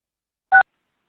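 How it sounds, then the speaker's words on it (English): A single short telephone keypad tone sounds once, clean and isolated against silence, as a caller enters a code to unmute. "Please enter *6 to unmute your phone"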